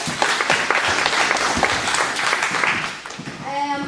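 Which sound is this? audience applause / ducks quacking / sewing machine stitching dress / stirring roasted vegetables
audience applause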